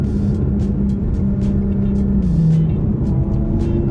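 A 2024 Porsche 718 Boxster GTS 4.0 flat-six runs at a steady, loud idle-to-low rev, holding an even drone with a slight rise in pitch midway, with no voices.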